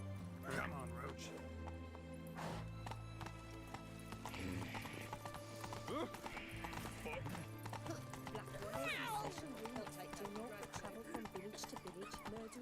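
Roach the horse gallops in The Witcher 3, a steady rhythmic clip-clop of hooves running throughout, with someone talking over it and game sounds mixed in.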